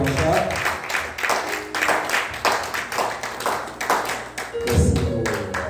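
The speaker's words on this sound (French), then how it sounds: "Nous acclamons très fort pour la gloire de Dieu." Church congregation applauding and clapping in rhythmic bursts to welcome Pastor Blanchard, a loud, dense patter with voices mixed in throughout.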